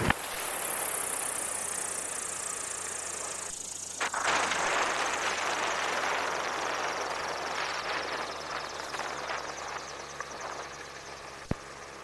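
A STOL aircraft engine runs steadily while taxiing at the Reno Air Races drag event, a broad continuous drone with a brief dip near the middle and a sharp click late on, with no talk.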